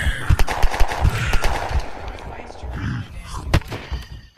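Gunfire in the survival game Unturned, a string of sharp repeated shots with loud bursts near the start and end over a busy game background, with people talking and shouting in places.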